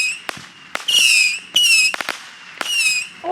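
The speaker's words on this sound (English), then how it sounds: "There's here's one. Don't know what it is. It's a mortar." Parachute firework mortars fired at a family picnic, giving sharp launch pops followed by bright, sustained whistling screams that repeat three times in quick succession, loud and close.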